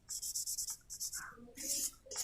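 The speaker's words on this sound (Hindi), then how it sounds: "तो यहाँ पे हम लिखेंगे" Chalk or marker scratching across a classroom board during a biology lesson, a run of short rhythmic strokes and squeaks close by, with a teacher's voice briefly speaking between them.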